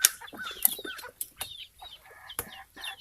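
A flock of chickens including young, not-yet-crowing roosters with long combs, clucking and chattering nearby in short irregular calls, with a couple of sharp squawks and some wing movement.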